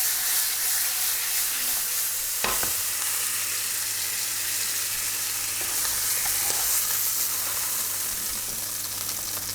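Beef flank steak with shallots sears in a hot pan, a loud steady sizzle and crackling hiss throughout, with a single brief clack of a utensil partway through.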